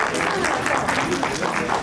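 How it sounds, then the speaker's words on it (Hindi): Wedding guests at an Indian Maglashtak ceremony clap in welcome, a steady, dense round of applause from a gathered crowd filling the whole short stretch at even loudness. "सभी लोग तालियां बजाकर स्वागत"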